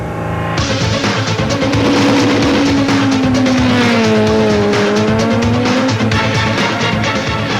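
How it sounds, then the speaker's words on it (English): Castrol Toyota Auris rally car racing on dusty farm roads at the 2012 Polokwane Rally, its engine roaring loud and close with a rising and falling tone, blended with gravel noise and broad rushing sound throughout. "Polokwane Rally action gets underway with the Castrol Toyota Auris of Leroy Poulter and Alvin Kutsia"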